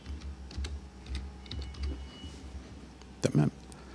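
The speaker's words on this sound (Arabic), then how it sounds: "نضغط كنترول اف ونكتب مدرسة" Keys on a computer keyboard are pressed for a Ctrl+F search and a short word is typed: a few soft, close clicks, then a quick louder burst of keystrokes near the end, with someone speaking over them.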